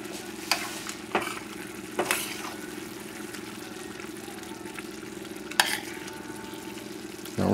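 Ground beef chili with red beans cooks in a pot with a steady sizzle. A spoon stirs it now and then, making a few sharp scrapes and clanks, close and alone with no talk.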